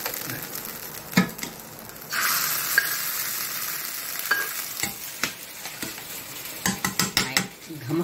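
Ghee tempering with coriander leaves sizzles in a pan for a Tulunadu-style egg masala curry, a steady frying hiss broken by sharp clinks and scrapes of a spoon against the vessel.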